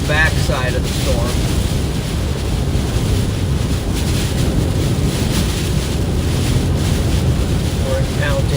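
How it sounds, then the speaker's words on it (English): Strong wind gusts roar steadily into the microphone during a tornado-warned storm near Mangham, Louisiana, a constant loud buffeting rumble with faint tonal squeaks. "We're encountering a lot of wind gusts."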